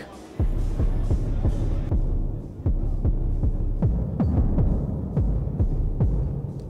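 Punchy kick drum from a Dreadbox Telepathy analog synthesizer voice module, repeating as a steady, fairly even pattern of about a dozen deep thumps with fast pitch drops, each ringing briefly, loud and close with no talking.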